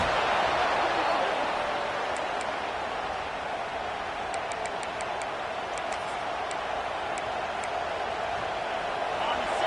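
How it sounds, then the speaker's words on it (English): Steady dense roar of a large stadium crowd in a college football video game, Oklahoma playing at Florida, continuous throughout with faint ticking clicks scattered in the middle. "This crowd trying to make life miserable for this offense."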